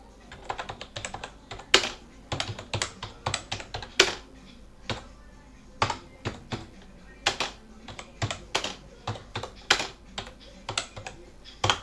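A folder name typed on a computer keyboard, a fast close run of crisp key clicks in irregular bursts with brief pauses, over faint background hum and no talking.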